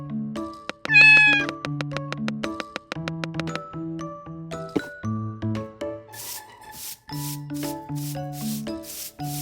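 A cat meows repeatedly near the mic, its cries mixed with tonal, music-like sounds and bursts of rubbing noise, without talking.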